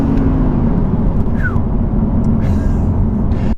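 An Audi R8 with its V10 engine, a 2019 model, hums as a loud, steady, continuous drone for the whole stretch, with a brief whistling chirp partway through.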